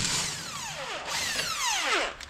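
A power tool spins a castle nut off the tie rod of a KRX side-by-side, giving close, loud whirring bursts that sweep downward in pitch as it revs and slows twice.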